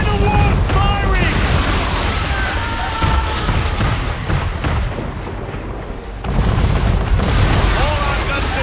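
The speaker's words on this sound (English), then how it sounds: "Man of war's firing!" Man-of-war warship cannon fire in the Assassin's Creed III naval battle, heavy booming blasts rolling under loud game music and shouted dialogue, with a brief lull near the end before the barrage resumes.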